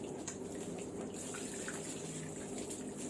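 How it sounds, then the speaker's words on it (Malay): Water sprinkles lightly onto a worm breeding bed covered with leaves and soil, a soft, steady hiss of trickling and splashing that stays even and fairly faint for the whole moment. "kita siram air sikit je"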